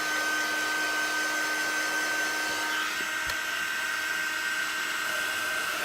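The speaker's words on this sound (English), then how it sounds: "I'm going to bring some heat to it to dry the ink" A heat tool runs steadily throughout to dry ink on a stamped card, producing a continuous loud whooshing fan-and-air hiss with a faint tick partway through and no speech.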